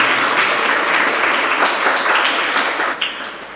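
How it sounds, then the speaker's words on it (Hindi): Loud sustained applause from an audience at a religious discourse on Shrut Panchami, a dense even roar of many hands clapping that eases off near the end. "अच्छे से ताली नहीं बजेगा।"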